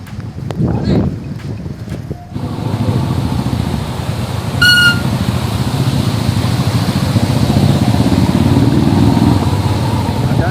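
A Bullet motorcycle rides through rain and mist on the Ambanadu hills in Kollam. A few sharp knocks give way to a steady, deep engine rumble that swells with heavy wind buffeting the microphone.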